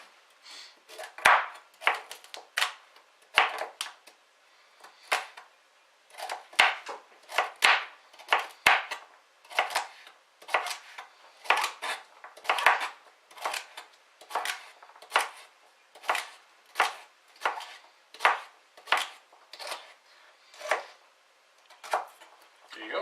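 A knife chops broccoli for a simple soup, trimming tough ends and cutting through the middle, in a steady run of crisp, close thuds against a board, about twenty evenly spaced cuts with no talk.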